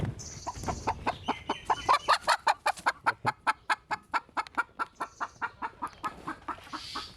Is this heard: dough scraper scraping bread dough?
no